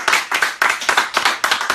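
Clapping at a live interview, a few sharp rhythmic bursts of hands striking together in a quick repeating pattern, close and distinct rather than a broad crowd wash.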